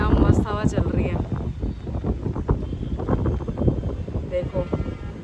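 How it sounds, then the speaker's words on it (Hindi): Wind blows steadily outdoors in rainy Goa weather, buffeting the microphone with a rough low rumble while a person talks over it. "क्या मस्त हवा चल रही है।"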